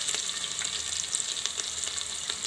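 Chilies and asafoetida (hing) sizzle in hot oil while Kang khichdi is being made, a steady, close frying crackle with brief pops and an occasional stir, with no voices.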